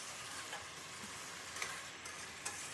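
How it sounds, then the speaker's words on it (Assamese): Marinated chicken pieces fry in a pan with a constant soft sizzling hiss, quiet and steady, with a couple of faint crackles and no talking. "এতিয়া মই ভালকৈ মাংসখিনি ভাজি ল'ম।"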